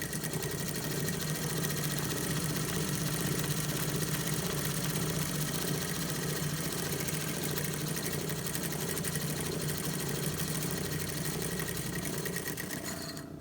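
A sewing machine with a dull needle stitches a shirt in a steady, close, continuous mechanical whir and rattle that runs unbroken throughout, with no voices.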